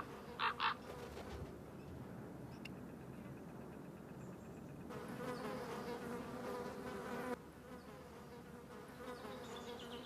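Flies buzzing around a dead badger high in the mountains, a faint continuous insect drone against an open outdoor background, with a couple of sharp bird calls near the start and the ambience shifting in level partway through.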